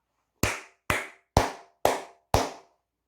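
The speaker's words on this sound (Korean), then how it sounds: "크게 박수 한번 치고 가도록 하겠습니다" Five sharp, evenly spaced hand claps ring out close and loud against silence, each with a short decaying tail.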